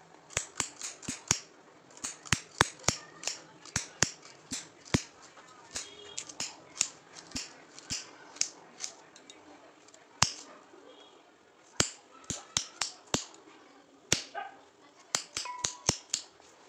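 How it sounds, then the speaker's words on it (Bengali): Beans and carrots are chopped into small pieces with a knife on a cutting board, giving sharp, close, irregular clicks and knocks in quick bursts with short pauses between them. "বিনস আর গাজর এগুলো ছোট ছোট করে কেটে নিই"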